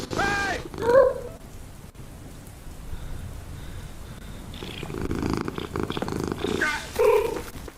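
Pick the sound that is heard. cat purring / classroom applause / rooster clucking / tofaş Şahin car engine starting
cat purring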